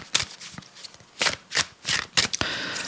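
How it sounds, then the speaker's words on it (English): A deck of Sacred Geometry Healing Cards being shuffled by hand, with several quick riffling bursts, close and fairly loud, and no voices. "I'm going to pull a card from the Sacred Geometry Healing Cards by Emily Kisvarder"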